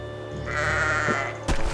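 A goat bleats in a video game, one sustained wavering cry that is close and clear, ending in a short sharp game sound.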